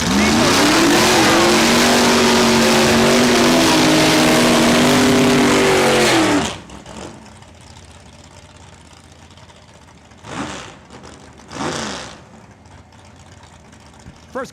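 Race cars roar loudly at a Saskatchewan International Raceway points race, a sustained close engine howl with shifting pitch that cuts off abruptly, followed by quieter track ambience and two brief distant engine passes.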